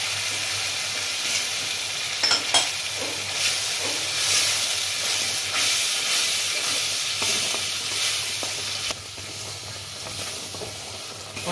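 Spices and shrimp paste fry with pointed gourd (parwal) in a pan, a continuous close sizzle with scraping stirs and occasional spatula knocks, heard alone without talk.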